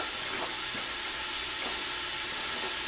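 Vegetables sautéing in a pot as the base for a Thanksgiving turkey noodle soup, a steady close sizzle and hiss that holds evenly throughout with no voices.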